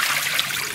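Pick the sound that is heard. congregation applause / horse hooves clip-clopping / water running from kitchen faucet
water running from kitchen faucet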